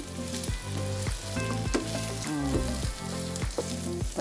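Biko sticky rice with cashews fries and crusts in a pan with a strong, steady sizzle, punctuated by regular scraping strokes of a spatula against the pan.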